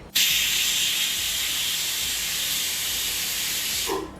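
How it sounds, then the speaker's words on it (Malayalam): A pressure cooker cooking dal khichdi lets out its first whistle: a sudden loud, steady jet of hissing steam that holds for about four seconds, then cuts off abruptly. "നമ്മുടെ കുക്കറിൻ്റെ ആദ്യത്തെ വിസിൽ കേട്ടിട്ടുണ്ട്"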